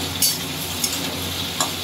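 Papaya frying in a pan for a vegetarian curry makes a constant sizzle, broken by three short, sharp scraping stirs spaced roughly evenly, with no talking.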